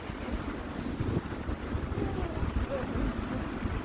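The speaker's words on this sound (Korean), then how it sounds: "바람 분다, 바람 불어" Wind gusting outdoors on a January evening, a steady broad rush buffeting the microphone with continuous low rumble throughout.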